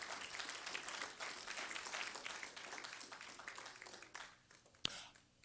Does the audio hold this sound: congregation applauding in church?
yes